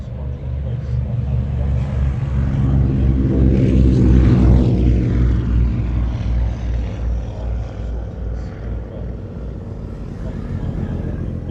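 A Shuttleworth Mark V Spitfire passes at an airshow, its propeller engine droning low and swelling to a peak mid-way before fading, with a commentator's voice running over it.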